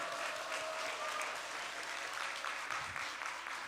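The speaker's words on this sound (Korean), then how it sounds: "더 큰 박수를 하나님께 감사와 영광 올려드립시다" Congregation applause during a New Year's Eve church service: a continuous wash of many hands clapping, fairly quiet and distant, steady throughout with no clear individual claps.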